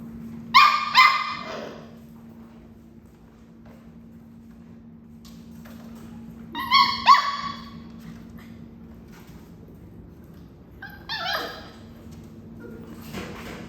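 Puppies bark and yip in three short bursts spread across the clip, with faint whimpering between them over a steady low hum indoors.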